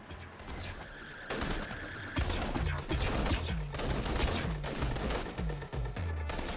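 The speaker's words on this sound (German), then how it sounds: "Schießen aber echt von überall." Gunfire in the video game inFAMOUS Second Son: dense, continuous bursts of shots and thumping impacts fill the clip, loud and busy with no pauses.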